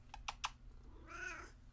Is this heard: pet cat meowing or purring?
yes